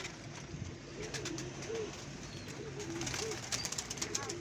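Soft repeated cooing of pigeons close by, several low calls spread across the clip over a faint background hiss.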